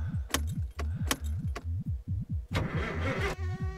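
A car engine in the My Summer Car video game cranks under a key turn, with a rhythmic, repeating starter chug and a jingle of keys up close, ending without a clear catch.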